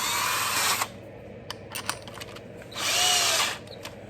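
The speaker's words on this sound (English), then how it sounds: "Switch over to the larger drill." A power drill with a larger bit bores into a James Bond tin toy car during repair, giving two loud whirring bursts separated by a quieter stretch of small clicks and taps, close up and without speech.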